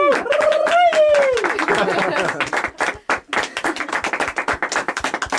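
Wedding guests in Japan clap after the newlyweds' kiss, scattered hand claps under excited voices and a rising squeal at first, then thinning into sparse, uneven individual claps near the microphone.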